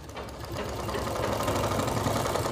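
A sewing machine runs steadily at close range, stitching piping onto fabric in a continuous, even mechanical whir with no pauses or voices.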